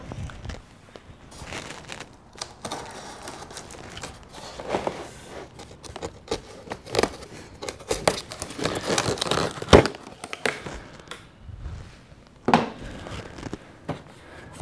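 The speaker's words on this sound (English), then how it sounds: "Go ahead and take out our first bit of foam." Foam packing being pulled from the box of an E-flite F-18 Hornet 80mm EDF RC jet, with soft crinkling, scraping and rustling handling noises that come in irregular bursts up close, growing a little busier toward the end.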